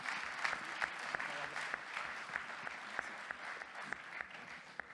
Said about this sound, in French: Applaudissements pour Johan